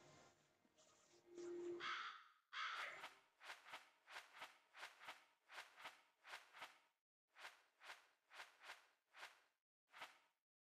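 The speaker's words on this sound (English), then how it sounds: "you must each be assigned your own Kasugai Crow" A Kasugai crow from the Demon Slayer video game caws in a rapid series of a dozen or so sharp, loud calls in a steady rhythm, following a brief burst of game sound effects.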